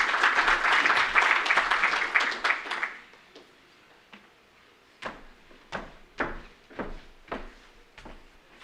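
A conference audience at a government reforms session claps loudly for about three seconds, then the applause dies away into scattered knocks and thumps from the room.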